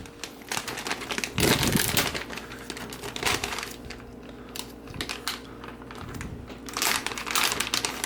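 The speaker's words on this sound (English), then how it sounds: "Got a resealable pouch." A resealable plastic pouch of meatless beef jerky crinkles as it is handled and opened, with irregular bursts of crackling rising and falling across several seconds, close up and with no talk.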